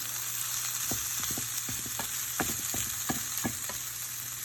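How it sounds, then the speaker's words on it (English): Cabbage, potato and kielbasa frying in a skillet, a steady close sizzle with scattered light pops and scrapes of stirring throughout. "We are going to cook this down until it is nice and soft."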